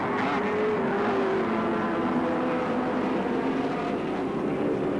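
Touring race cars, including Allan Moffat's and Peter Brock's, compete in round 7 of the 1983 Australian Touring Car Championship at Oran Park. A dense, continuous loud engine roar holds steady throughout with no break.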